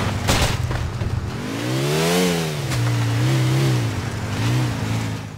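A motorcycle in the GTA IV video game, The Lost and Damned, revs and shifts as it rides, its engine pitch climbing, dropping and climbing again in a steady, close, loud drone.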